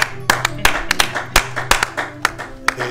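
A church congregation claps in a steady rhythmic beat, sharp close hand claps repeating roughly every third of a second in time with worship singing.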